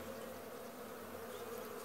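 A steady, dense hum of honeybees clustered at a beehive, close and even for a couple of seconds with no voices over it.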